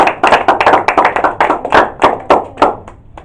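A church congregation claps in quick, uneven bursts of close, sharp hand slaps, loosely rhythmic and thinning out toward the end, with no talking.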